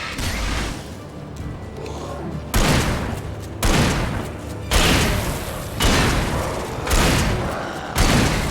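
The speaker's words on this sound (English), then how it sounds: "Much better shotgun. Pump action." Pump-action shotgun blasts in the Alan Wake video game: about six loud, booming shots at a steady, unhurried rhythm, each followed by a brief decaying tail.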